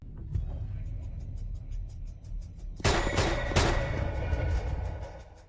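Gunfire in a dramatic fight scene: a rapid string of faint sharp pops gives way to two loud, close blasts over a dense rumbling background.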